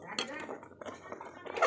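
A rice pot lifted off the stove in a home kitchen, giving a few close metallic clanks and scrapes of the pot and utensils, with brief soft sounds between them and a louder clatter at the end.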